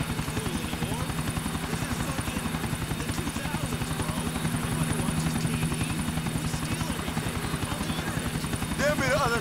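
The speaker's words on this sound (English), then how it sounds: "Give me the other chopper." A helicopter in the video game GTA IV drones close and steady with a fast rhythmic rotor chop, while voices talk over it.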